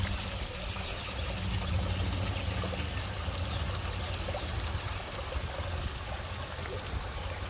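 A garden waterfall pours steadily in a broad, continuous wash of trickling and splashing water, close and unbroken, among plantings of golden variegated sweet flag and sedum.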